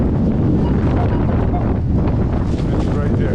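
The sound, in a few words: strong wind on a beach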